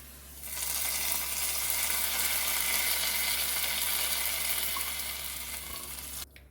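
Golden fried tempering poured into a Kerala-style prawn curry sets off a loud, steady sizzle that begins abruptly and holds for several seconds, close up, before cutting off.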